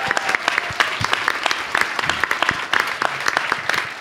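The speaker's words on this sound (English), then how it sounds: "you can give her a round of applause" A crowd at an evening event breaks into a round of applause, dense steady clapping with a few louder close claps, filling the whole stretch.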